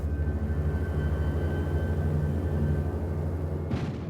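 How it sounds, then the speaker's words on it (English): A steady droning roar of American bomber aircraft over Wilhelmshaven, with a low continuous engine hum and a brief burst of noise near the end. "3 days after the Casablanca Conference, American bombers attack Wilhelmshaven."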